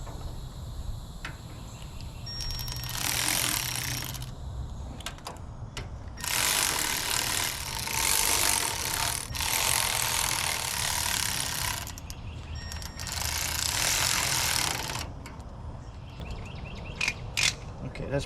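A torque wrench ratchets bolts tight during reassembly of a Tulsa winch, giving several bursts of close, dense clicking, each lasting a second or two, with short pauses between them.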